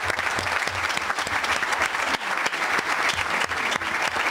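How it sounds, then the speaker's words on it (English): An audience at a Virginia Beach school board awards and recognition meeting gives an honoree a long, steady round of clapping, dense and fairly close, with a few sharper individual claps standing out. "Give her a clap and applause."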